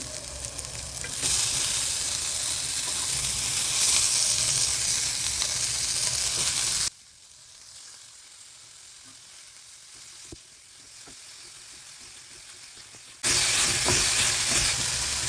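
Coriander stalks with onion and tamarind sizzle and fry in a pan for a chutney, a loud continuous hiss with stirring that drops away for several seconds mid-clip before returning at full strength.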